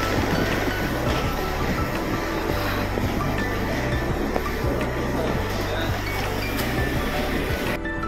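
The Shatabdi Express at Puri railway station gives a continuous heavy rumble with rhythmic rail clatter and low mechanical drone, mixed with background voices on the platform.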